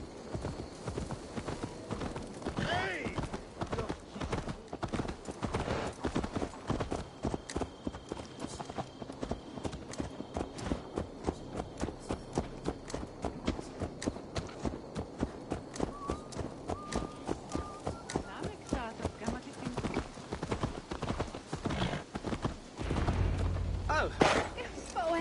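Horse hooves clip-clop steadily through a long stretch of Assassin's Creed Valhalla gameplay, a continuous rhythmic trot of close, moderately loud impacts with game ambience and occasional voices beneath, ending in a brief louder rumble.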